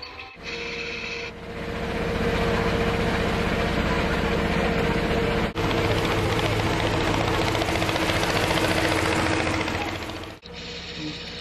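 A boat motor on the Tsiribihina River hums in a steady, buzzing drone that runs on for seconds, briefly dipping twice before continuing.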